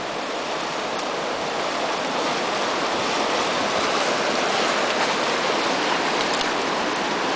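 Very cold stream water rushing steadily in Denali wilderness, a dense broadband wash of flowing water close by that holds constant throughout with no voices.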